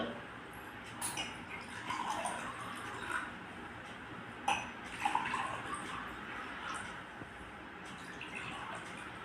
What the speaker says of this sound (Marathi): या ठिकाणी मी पाणी टाकत आहे